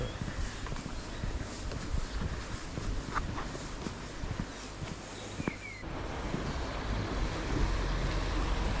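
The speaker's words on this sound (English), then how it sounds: "Nice little river to start with." A small river, the Glendoramakin in the Lake District, rushes steadily as a broad, continuous wash of flowing water close by, with some wind noise mixed in and no talking.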